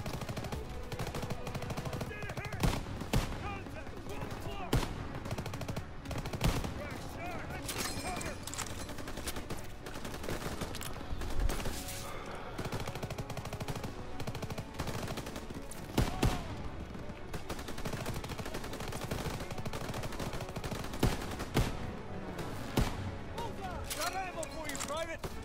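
Sustained gunfire in the Call of Duty WWII campaign, rapid machine-gun bursts and scattered rifle shots crackling nonstop through a noisy battle, with voices talking over it.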